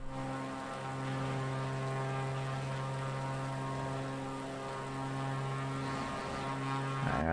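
Steady droning propeller aircraft engine in PUBG, flown over a Scotland and UK map, holding a constant harmonic hum throughout with a slight shift near the end, loud and alone with no talk.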